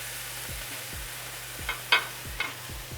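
Marinated tofu sizzles in a pan with a soft, steady frying hiss, punctuated by a few light stirring or utensil knocks and brief brighter crackles.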